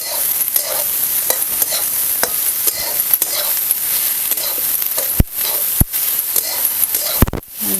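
Cumin seeds and chopped green tomatoes frying in hot oil for a traditional chutney, a loud continuous sizzle with repeated scraping stirs of a spoon in the pan and a few sharp clatters near the end.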